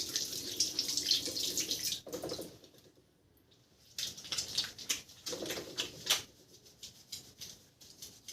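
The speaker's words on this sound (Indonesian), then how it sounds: "Lalu lakukan cuci tangan 6 langkah." Water runs from a tap while hands are scrubbed beneath it before a birth delivery. The splashing comes and goes, with a short lull when the flow is interrupted, close and fairly loud.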